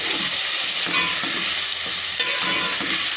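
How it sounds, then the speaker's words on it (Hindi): Raw potatoes fry and get stirred in masala, producing a loud continuous sizzle with rhythmic scraping strokes of a spoon against the pan, close up and with no talking. "आलू कच्चे हैं इसलिए मैं इनको भून लूँगी"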